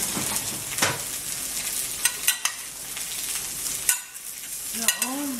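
Potatoes sizzle steadily in a hot pan, close up, with a few sharp stirring scrapes and clicks of a utensil breaking through the constant frying hiss.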